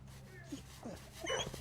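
A video game dog gives a few soft whimpers and high yips, brief and fairly faint, with a person talking over it.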